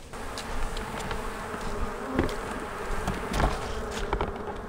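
Honeybees buzz steadily around an opened beehive during a mite check, a dense close swarm hum with no voices, swelling slightly in places.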